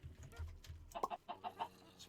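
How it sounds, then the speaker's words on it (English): Chickens cluck in Minecraft, modded Stoneblock 2 pack, a run of short close clucks in the second half over low game background hum. "I'm not exactly sure where the baby chicken went."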